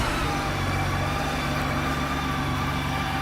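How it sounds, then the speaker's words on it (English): A 2007 Honda GL1800 Goldwing motorcycle idles steadily and smoothly close by, an even, continuous engine drone with no talking. "Starts right up and just idles like a champ. Really a smooth running bike."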